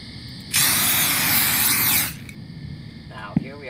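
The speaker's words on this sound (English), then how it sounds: "here we are assaulting some rats with pepper spray" Pepper spray sprays at rats in a loud, steady hiss for about one and a half seconds, then cuts off, followed by a faint clatter and a short click.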